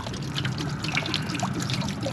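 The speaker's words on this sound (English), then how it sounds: "I'm gonna just let that drip out of there." Water trickles and drains out of an RV hot water heater during winterizing before cold weather, a steady moderate dribbling flow with a low background rumble.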